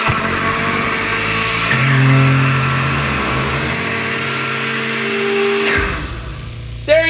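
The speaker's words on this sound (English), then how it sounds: "I think you broke my blender." A kitchen blender runs steadily with a loud, dense motor whine and whirring churn, its pitch shifting slightly before it winds down near the end, with no voices over it.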